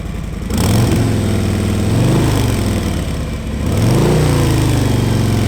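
A 2020 Harley-Davidson Road Glide Special's Milwaukee-Eight 114 engine rumbles steadily at close range, revving up briefly a few times before settling back to a deep idle.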